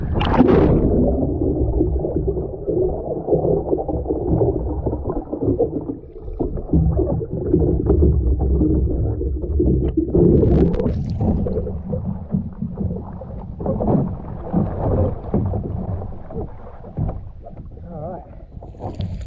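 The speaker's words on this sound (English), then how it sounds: "we're going to put it on its edge, and we're going to turn it over, get wet, get in the water." A 10-foot Crescent Ultralite kayak is pushed over on its edge with water sloshing over the gunnels, sustained splashing and gurgling close by, then quieter dripping.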